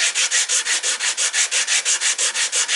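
Steady back-and-forth sanding of a wooden guitar neck headstock during final shaping, about sixteen even rasping strokes in quick rhythm, close and clear with no talking.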